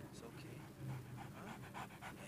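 A dog pants in the zombie survival video game Into the Dead 2, quick breathy huffs that stay faint and close, with a voice speaking over them throughout.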